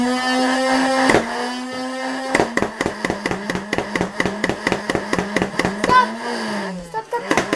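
A rapid train of sharp mechanical bursts after a steady whirring hum, as electric Nerf Rival Khaos blaster motors spin up and fire repeatedly, with a voice faintly present.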